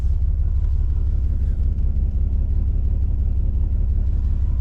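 An old Mercedes Benz that sat undriven for about eight years idles steadily just after starting, a continuous low rumbling engine hum with no pauses.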